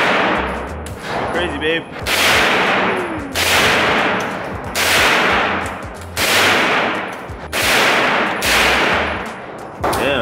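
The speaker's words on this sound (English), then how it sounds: "It's a Tommy gun, guys." Tommy gun fired from a chopper at a shooting range, loud sustained full-auto bursts in several repeated strings separated by brief pauses, with people talking between bursts.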